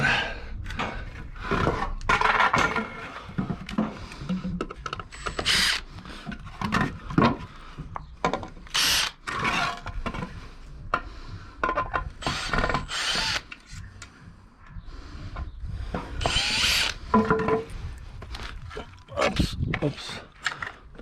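A power drill backs a screw out of timber formwork for a ring beam. Short, loud whirring bursts repeat close by, separated by knocks and handling of wood.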